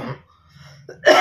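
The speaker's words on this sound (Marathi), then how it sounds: "मला खोकला लागला." One short, sharp cough from an elderly man, loud and close, bursting out at the end after a brief quiet breath.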